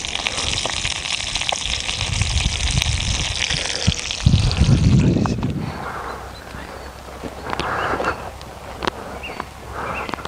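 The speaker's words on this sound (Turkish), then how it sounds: "yağmura yakalandık" Steady rain pattering down on a surface, dense and hissing at first, then softer with scattered drops and faint voices in the background.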